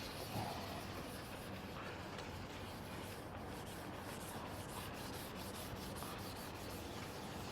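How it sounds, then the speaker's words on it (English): Sandpaper with soapy water rubs back and forth over painted bodywork in steady, faint wet sanding strokes, with no talk. "if you're wet sanding a wide flat surface"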